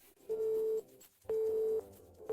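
After a call is cut off, a telephone busy tone sounds in steady pulses, each long beep followed by a short silence, heard alone.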